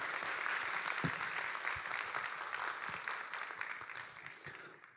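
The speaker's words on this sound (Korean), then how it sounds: "우리 뜨거운 박수로 환영하도록 하겠습니다." Church congregation clapping to welcome a missionary, a soft, steady patter of many hands heard from a distance, fading slightly toward the end.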